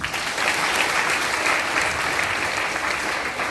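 A crowd gives a big round of applause at a meeting in honour of a mentor: steady, dense clapping that holds evenly for several seconds with no talk.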